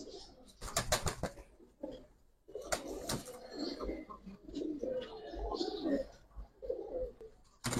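Gribaz racer pigeons being handled for sale give low, soft cooing calls and some wing movement close by, with someone talking intermittently throughout.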